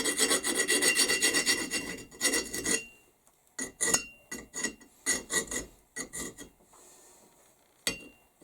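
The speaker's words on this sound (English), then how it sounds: "These four-way rasps have a flat on both sides and a curve on both sides." A four-way rasp files an axe head in close, scraping strokes: a long continuous rasping burst, then a string of short, separate pushes with pauses between them, no speech.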